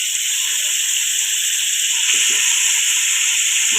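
Mutton sizzles in hot oil for a village-style dish, a steady bright hiss of frying that runs constant throughout, with a few soft clinks underneath.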